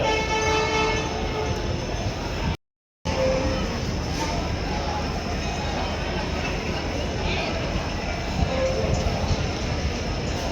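Steady, loud railway ambience at a station on a Haridwar trip, with a train standing nearby, continuous low rumble and hiss, a brief dropout, and voices mixed into the background.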